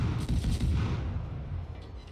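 Main battery guns of the destroyer Benson firing in World of Warships, a dense run of heavy, booming naval shots rolling over one another with no pauses, loud and close, no talking.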